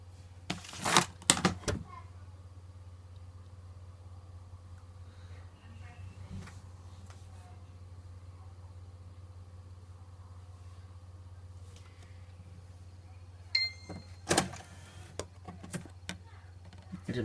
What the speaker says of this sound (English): how to fix your Xbox when it makes it sound like this.